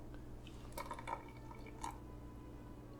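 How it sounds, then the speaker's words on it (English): Cold water poured into a measuring cup while preparing rehydrated hash browns and eggs, a faint steady trickle with a few light drips and splashes, fairly quiet and without talking. "Add 200 grams of water."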